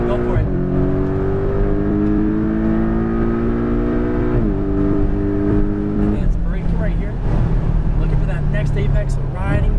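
A Porsche Cayman GTS engine pulls hard under full throttle on a race track, a loud sustained drone with rising harmonic pitch, a brief gear-shift dip, then climbing again, with someone talking over it throughout.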